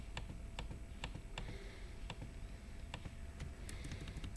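Keys tapped on a computer keyboard, arrow keys pressed to shift a cursor while digitizing a polygon, about a dozen sharp separate clicks at an irregular pace over a low steady room hum, close and fairly quiet.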